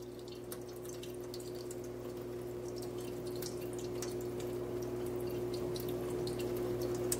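A thin stream of running water falls in a light-pipe demonstration, giving a faint, steady trickle over a low electrical hum that builds slightly toward the end.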